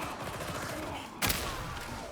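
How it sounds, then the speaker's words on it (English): In the Warhammer 40,000: Darktide video game, gunfire cracks over a busy game mix, with a sharp loud burst near the middle standing out above the steady background noise. "He was shooting."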